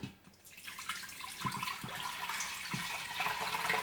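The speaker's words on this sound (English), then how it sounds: "next I'm going to pour this mixture into my Instant Pot" Liquid pours and splashes steadily into a container, a continuous watery rush with a few louder gurgles, close and fairly quiet.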